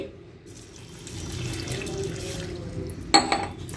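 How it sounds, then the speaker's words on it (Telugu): A glass of water pours steadily into a pot of goat head curry for a few seconds, ending with a sharp clink of glass or metal. "1 గ్లాస్ వాటర్ పోసి"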